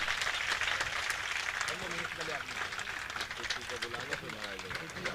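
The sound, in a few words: audience applause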